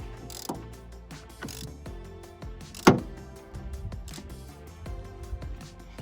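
Ratchet clicking repeatedly as it tightens a temperature sensor on a 2016 Chevy Silverado, close and mechanical, with a sharper metallic knock near the middle.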